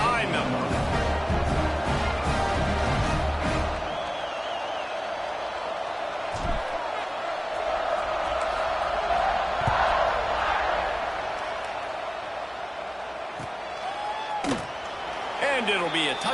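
Football stadium crowd cheering and roaring at kickoff, a broad sustained wash of voices with a few sharp slaps and bangs scattered through.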